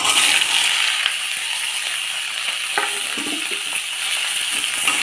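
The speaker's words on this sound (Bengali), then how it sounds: "আলু পেঁপে মিষ্টি কুমড়া দিয়ে দিলাম, দিয়ে এবার একটু ভাজা ভাজা করে নিচ্ছি।" Potato, papaya and pumpkin pieces fry in a pan with a steady, moderate sizzle, broken by a few faint scraping stirs, with no talking.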